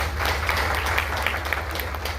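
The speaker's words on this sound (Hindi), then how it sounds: "तालियां बजा के बताएं।" Clapping from an audience at an indoor fitness session, a steady, dense patter of applause with a constant low hum underneath.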